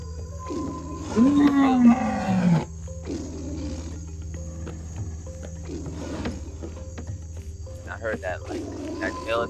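Lions fighting in the Animalia Survival video game let out a loud, growling roar that rises and falls over about a second and a half, then fade to a low rumble and steady insect chirring.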